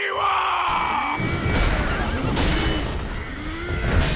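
A horse whinnies loudly in the video game Sekiro: Shadows Die Twice, amid dense battle noise and a strained shout, with a rumbling low rush underneath throughout.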